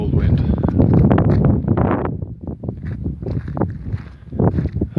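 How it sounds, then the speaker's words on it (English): Cold wind gusting hard across an outdoor microphone, a loud, steady roar that swells and eases over several seconds with no talking. "Ooh, that's a cold wind."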